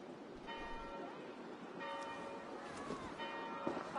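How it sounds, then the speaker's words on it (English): Church bells ringing in the Assassin's Creed Valhalla video game, repeated steady tolling strikes layered over a dense ambient background, moderately loud and continuous. "Do you not hear the bells?"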